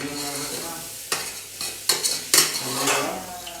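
Soya pulav ingredients, soya chunks with potato and carrot, fry in a pan with a close sizzle as a spoon scrapes and knocks against the metal in several sharp strokes, with no talk.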